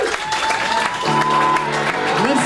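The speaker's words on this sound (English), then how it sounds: "Listen to that, light applause." Light audience applause at the Comedy Store comedy club, brief, thin clapping as a host is introduced, with someone talking over it.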